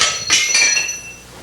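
A regular hammer strikes a Porsche 356 engine part twice in quick succession, loud, close and ringing with a metallic clink that fades out.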